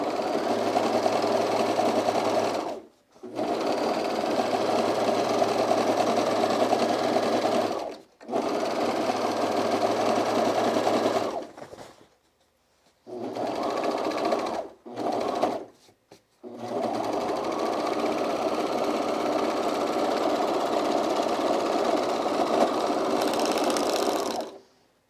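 A serger sewing machine stitches overalls fabric in long, loud, steady whirring runs up close, stopping briefly several times between bursts.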